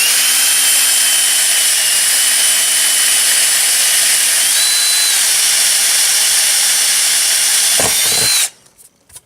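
Power drill bores through two stacked layers of metal plate during an amp build, a loud sustained whine with slight pitch shifts, then it stops abruptly near the end.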